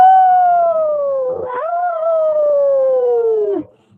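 A dog gives one long, loud howl that slowly falls in pitch, breaks briefly in the middle, then carries on before cutting off. No other sounds around it.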